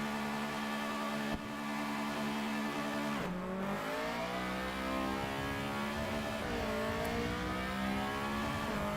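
Honda Civic race cars at the start of a race at Donington Park, several engines revving hard and rising in pitch as they pull away, a gear change midway, loud and sustained.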